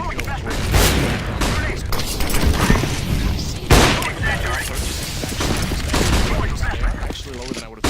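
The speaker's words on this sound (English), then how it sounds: "Throwing fire. I'm throwing flashbang." In the CS:GO video game, a flashbang grenade and a fire grenade are thrown amid bursts of gunfire and sharp blasts. Excited commentary runs over the dense, loud action.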